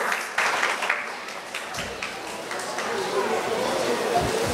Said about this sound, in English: Alright girls, let's give her another round of applause to Miss Yates.